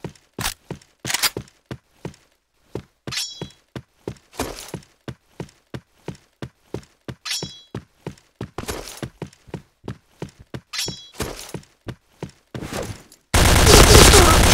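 Rapid gunfire in the video game Point Blank, dozens of sharp single shots in quick bursts with brief gaps, loud and close, ending in a sustained burst of noise, no speech heard.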